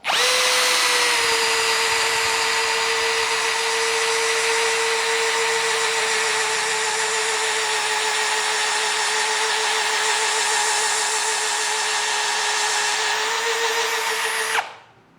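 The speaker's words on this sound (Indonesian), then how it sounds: "ini Tekiro yang speed 1-nya dengan mata bor yang sama" A Tekiro XV 20V cordless drill runs at speed 1 with a steady, loud high whine, spinning without a break for about fourteen seconds before it winds down and stops.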